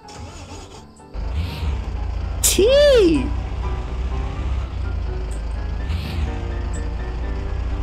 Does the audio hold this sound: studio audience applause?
no